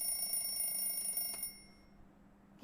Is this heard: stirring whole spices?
no